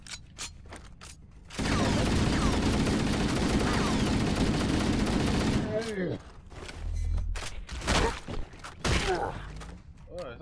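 Sustained automatic gunfire in Halo: Combat Evolved Anniversary aboard the Pillar of Autumn, a loud continuous burst lasting several seconds, then scattered shots and mechanical clanks amid game effects and voices.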